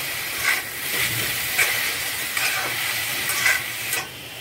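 A vegetarian minced kofta mixture seasoned with nutmeg is stirred in a hot pan. A steady frying hiss runs throughout, broken by a handful of rhythmic spatula scrapes about a second apart, close and with no voices.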